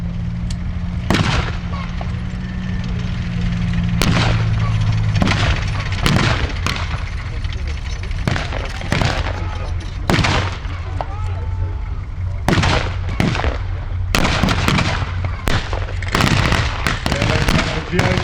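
Blank rounds from light machine guns and a Browning automatic rifle at a WW2 battle reenactment, sharp, loud, irregular bursts and single cracks from mid-distance over a low tank engine rumble, with a commentator talking throughout.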